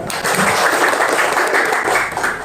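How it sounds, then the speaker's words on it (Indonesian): A room full of people applauds, with dense, steady clapping throughout. "Kita kasih tepuk tangan dulu kita semua"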